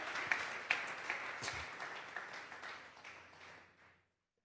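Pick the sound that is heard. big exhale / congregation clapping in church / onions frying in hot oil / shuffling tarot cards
congregation clapping in church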